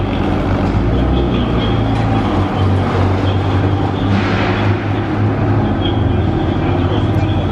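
A Ford GT drives past in Monaco, a loud, dense engine roar and road rumble that stays heavy and steady throughout, close by.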